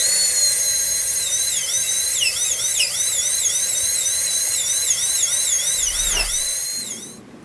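A rotary tool bit cuts into wood on a model ship, giving a steady high-pitched whine whose pitch repeatedly dips and recovers as the bit bites into the wood. The whine winds down at the end.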